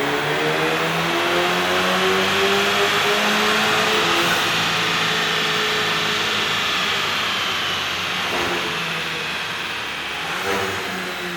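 A Volkswagen MK8 GTI with a Stage 2 ethanol tune revving hard on a dyno, a loud sustained engine roar climbing in pitch through the gears, close and steady.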